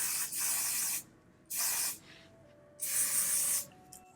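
Sebastian Shaper hair spray goes on in three bursts of hiss, the last one longest, each a close, bright aerosol spray cut off sharply between pauses.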